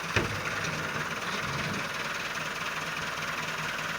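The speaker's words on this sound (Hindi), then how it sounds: "ये दोस्तों एक लोडर ट्रैक्टर है।" A loader tractor's engine runs at a steady idle, a continuous low rumble with a rough knocking texture. There is one brief knock near the start, then an even drone throughout.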